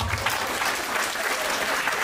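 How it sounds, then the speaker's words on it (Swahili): Audience at an International Domestic Workers Day event clapping, a dense, even burst of applause from a crowd, loud and continuous. "Wapi makofi ya Pam?"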